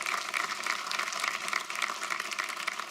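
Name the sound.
loud applause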